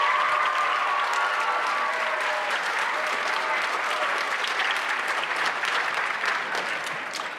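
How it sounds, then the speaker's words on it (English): A school holiday concert audience gives a big, steady round of applause for the middle school French horn and trumpet sections, dense continuous clapping filling the hall and tapering a little near the end. "Give those sections and kids a huge round of applause."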